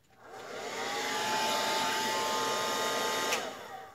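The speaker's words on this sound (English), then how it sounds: "Let me turn on my blow dryer" A blow dryer, used for crafting, switches on and runs with a steady loud whirring roar for about three seconds, then winds down.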